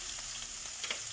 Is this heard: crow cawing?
no